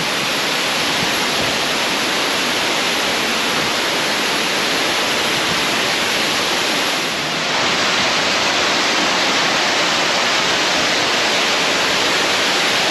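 A waterfall near Nang Aen swallow cave in Laos thunders continuously and close, its broad hiss of crashing water holding steady throughout with a slight dip in level partway through.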